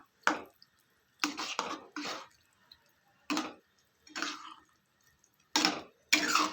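Water goes into a pot of masoor lentil curry in a series of short, separate splashy pours and drips, each burst brief and close, with quiet gaps between.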